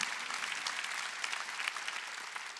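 Congregation clapping during a Sunday worship service at Jesus-centered church, a dense, even wash of applause heard from a distance and fairly faint throughout.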